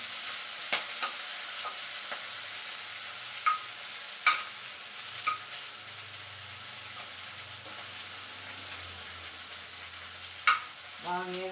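Dried and green chillies fry in about four spoons of hot oil, a soft steady sizzle broken by occasional clicks of a spoon stirring the pan.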